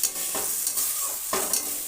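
Elephant foot yam stalks and potatoes stir-frying with spices in a pan, a steady bright sizzle broken by a few quick scraping stirs, close and alone.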